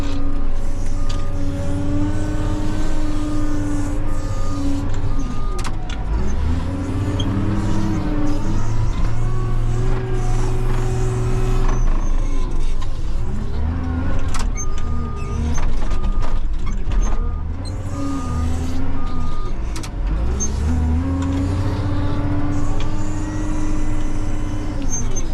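Caterpillar 930H wheel loader loading trucks with mulch, its diesel engine droning loudly up close, revving and sagging in repeated cycles with whining hydraulics and occasional clanks and knocks.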